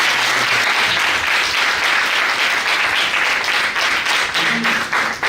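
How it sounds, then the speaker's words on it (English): An audience at an event claps loudly and steadily, a thick wash of many hands continuing for several seconds with no talking. "And shall we applaud them for"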